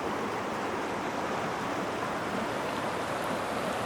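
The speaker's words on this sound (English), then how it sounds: "This is where you cross this creek here." Creek water on a trail near Mount Whitney, a steady broadband rush flowing without a break and fairly close, with no voices.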